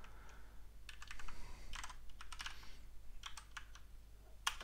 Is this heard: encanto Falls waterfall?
no